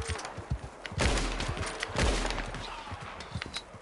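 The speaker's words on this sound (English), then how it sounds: "When I shoot this gun, I expect it to operate as such." Gunshots from a firearm in the video game Red Dead Redemption 2, two heavy booming shots about a second apart, each with a long rumbling tail, amid scattered smaller pops and clatter.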